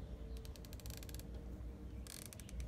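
The turret of a Tac Vector Taurus 5-30x56mm FFP scope is turned in two quick bursts of crisp, rapid, evenly spaced clicks over a faint, steady background hum.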